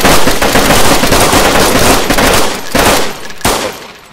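Several guns fire together at a ceiling in the DayZ survival game, a loud, dense rattle of rapid overlapping shots that thins out into a few final bursts.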